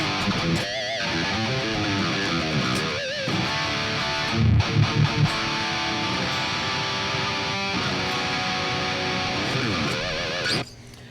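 Distorted electric guitar playing chords and riffs through a Kemper amp profile, sustained and fairly loud, with a short muted chugging passage midway.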